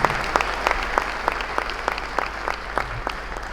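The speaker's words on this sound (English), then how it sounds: "round of applause for yourselves," An audience applauds for a speaking event, steady mid-distance clapping with a few sharper individual claps standing out, holding at an even level throughout.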